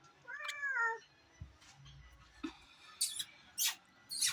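Cat meowing nearby, one clear drawn-out meow at the start followed by quieter shuffling and a few short bursts of noise.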